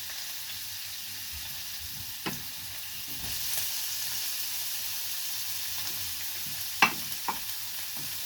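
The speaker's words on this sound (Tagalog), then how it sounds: "Gigisahin natin lahat ito guys. Lulutuin natin ang lutong-luto." Onion and tomato sauté in hot oil, a steady close hiss and crackle that continues throughout, with a few sharp utensil taps and clicks as the pan is stirred.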